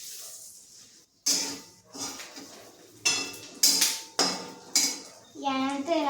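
A utensil scrapes and clinks against a cooking pot as food with chilli is stirred, giving a series of close, uneven metallic scrapes and knocks over a quiet kitchen background.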